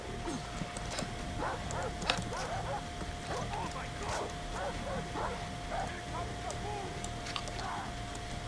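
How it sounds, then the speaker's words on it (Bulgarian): In a Far Cry 3 camp, several dogs bark repeatedly in scattered, sharp yaps at a moderate distance over a constant low hum of game ambience, with a voice murmuring underneath. "Тъпи кучета."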